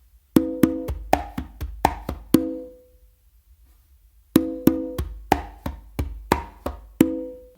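Conga drum played in a slappy tumbao pattern, two repeated phrases of crisp hand strokes mixing sharp slaps and ringing open tones, separated by a short silence, close and alone.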